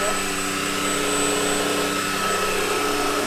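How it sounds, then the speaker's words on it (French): Ultenic vacuum cleaner running indoors, a steady close whirring hum with a constant high whine, held at an even level throughout. "vous passez l'aspirateur"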